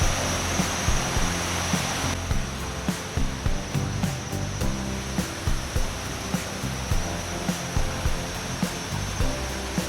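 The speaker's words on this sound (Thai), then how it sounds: "สำหรับน้ำตกห้วยแก้วแห่งนี้เป็นน้ำตกขนาดเล็กมีความสูงอยู่ประมาณ 10 เมตร เท่านั้นเอง" A small waterfall about 10 meters high at Huai Kaeo in Chiang Mai gives a steady, dense rush of falling water, with faint insect chirps and scattered light ticks throughout.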